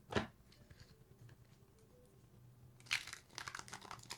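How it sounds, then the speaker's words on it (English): A deck of cards is shuffled nearby: a short riffling burst, a quiet pause with light handling, then a longer fluttering riffle. "I shuffle, I split the deck, I shuffle"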